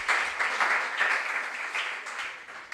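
Audience at a junior science and maths quiz regional qualifier claps for contestants, a continuous patter of many hands at moderate level that fades slightly toward the end.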